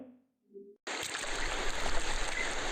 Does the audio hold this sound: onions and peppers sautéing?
no